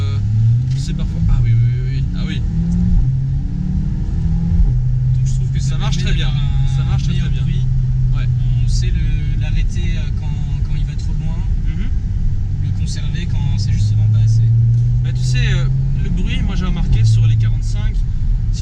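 A Mercedes CLA45 AMG engine and exhaust drone steadily while driving, holding a low rumble throughout with rising revs mid-way, under continuous conversation from people inside the car.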